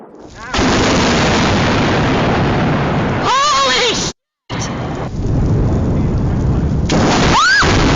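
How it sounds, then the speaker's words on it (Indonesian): Thunder booms and rolls loudly and continuously, a dense broadband rumble with a short silent break, alongside sweeping whistling tones. "dengan suara menggelegar yang disebut dengan guruh"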